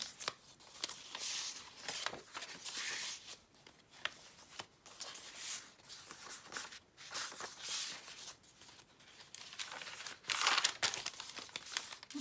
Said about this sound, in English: This is calligraphy paper,